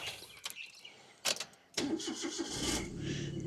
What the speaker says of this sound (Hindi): एक तो हम गाड़ी स्टार्ट करेंगे क्योंकि इसकी बैटरी डाउन होती है